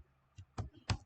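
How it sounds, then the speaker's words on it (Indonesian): Computer mouse clicking during image analysis work in ImageJ, three short faint clicks spaced unevenly within about a second, heard alone in a quiet room. "Kita klik aja nih ya."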